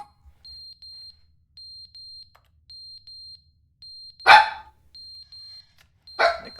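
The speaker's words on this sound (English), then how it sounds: "The clock fell off the wall. The alarm's going off." An alarm going off in the video game The Stanley Parable: a high electronic beeping repeats in regular paired pulses, steady and clear, interrupted twice by short loud dog barks.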